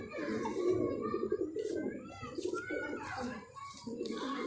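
A plain, sick pet pigeon kept indoors in winter gives soft, close, repeated throaty coos, with faint voices in the background.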